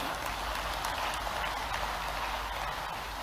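Steady applause from a crowded audience at a government investment event, continuous broadband clapping held at an even level with no pauses.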